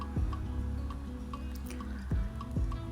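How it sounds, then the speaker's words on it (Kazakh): Kefir poured from a container into a bowl of sugar and water for doughnut dough, heard as a run of wet glugs and drips with small plopping splashes, close up and fairly quiet. "Одан кейін айранды құйып,"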